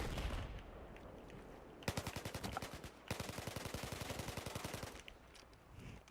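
A UMP-9 submachine gun in Battlefield 4 fires two sustained automatic bursts, each a rapid even rattle of shots lasting over a second, separated by a brief pause and followed by fading ambient battle noise.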